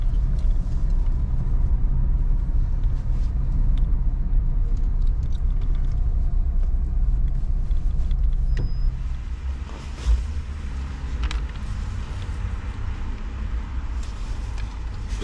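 A car driving along a road in Armenia on the way to a gas station, with a steady low engine and road rumble from inside the cabin and a few light knocks and rattles.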